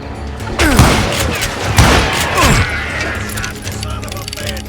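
Rapid gunfire bursts from a Western shootout in Call of Juarez: Gunslinger, several loud cracks clustered over a few seconds amid raised voices.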